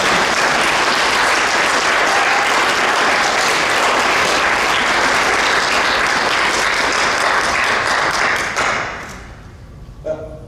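A large audience applauds at the Wongu University of Oriental Medicine 2021 commencement ceremony, a dense, steady roar of many hands clapping for about nine seconds before it fades away and ends.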